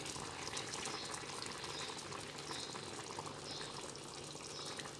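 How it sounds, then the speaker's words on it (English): Cooking oil poured into a pan while making aloo saag gives a steady, dense hiss and sizzle that runs unbroken and fairly quiet, with no talking. "So I'm going to pour more oil now."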